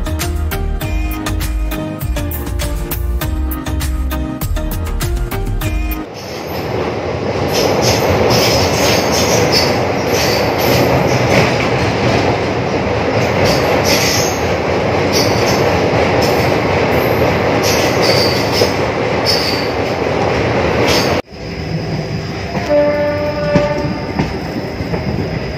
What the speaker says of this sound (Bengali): আমাদের ট্রেন ছুটে চলেছে চা বাগানের মধ্যে দিয়ে